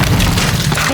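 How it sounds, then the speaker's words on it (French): A loud explosion from a French war action film, a deep boom with broad rumbling noise filling the whole second without pause. "3, 2, 1, explosion!"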